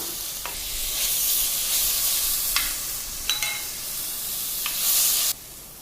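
Tomato dropped into ginger garlic paste frying for mutton kheema, stirred steadily: a loud, continuous sizzle with scattered spoon scrapes and clicks, cutting off abruptly near the end.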